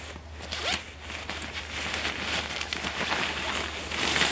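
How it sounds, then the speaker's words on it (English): A Snugpak Elite 3 sleeping bag is unzipped all the way in one long, continuous zipper rasp, close and clear, with no talking. "So we just undo the sleeping bag all the way."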